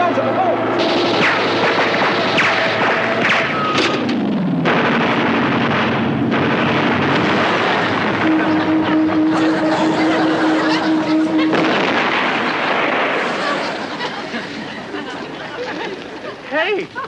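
Anti-aircraft gun and .50 caliber machine gun fire at a Japanese Zero fighter, loud sustained bursts of gunfire running through most of the stretch with a droning plane engine tone, while voices shout over it.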